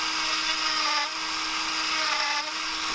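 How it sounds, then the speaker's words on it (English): Dremel rotary tool with a burr grinding a lead hole, a steady high-pitched whine with a constant hum, close and unbroken, with slight dips in pitch as the burr bites. "I did some extra burr work with the Dremel to even things out"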